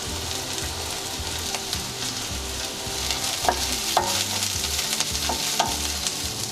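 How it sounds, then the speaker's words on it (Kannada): Curry leaves and onions frying in a pan for pepper chicken fry, a steady loud sizzle with clicks and scrapes of stirring throughout. "ಇವಾಗ ಕರಿಬೇವಿನ ಸೊಪ್ಪು ಹಾಕ್ಕೊಳ್ಳೋಣ."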